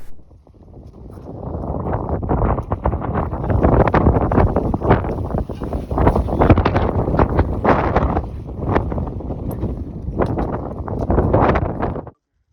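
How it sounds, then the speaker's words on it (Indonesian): Very strong wind roars across a Japanese mountain summit on Aka Dake, buffeting the microphone in loud, continuous gusts with sharp flutters, staying loud throughout and cutting off abruptly at the end. "Angin sangatlah kencang seperti di background ini"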